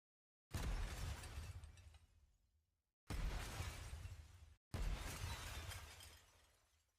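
Three separate glass shattering effects for a video game, each a loud sharp crash with a tinkling tail of falling shards, the first long and the following two shorter, playing alone in silence.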